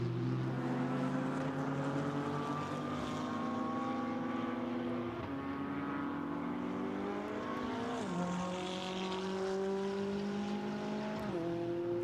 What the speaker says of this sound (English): the McLaren then now accelerates onto a proper flying lap